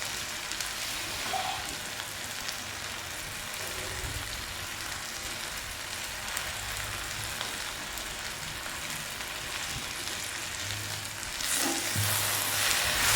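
Chickpea masala with chili and tomato sauce frying in a pan, a constant hissing sizzle that sounds almost like rain, with occasional faint stirs and a louder burst near the end.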